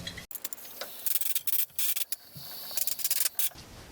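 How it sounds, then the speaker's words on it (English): Short hissing bursts of compressed air blow dust off a Piaggio Ape diesel engine, coming in several close, irregular blasts with brief pauses between them. "I'm just going to use a bit of compressed air."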